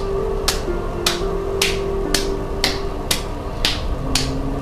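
Fingertips of the right hand stroking down the left hand, heard as a regular series of crisp brushing swipes about every half second, close and distinct over a steady low background hum.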